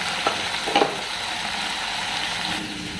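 Broad beans tipped into a pan of frying onion and curry leaf seasoning, giving a steady close sizzle with a few brief louder crackles near the start and no voices.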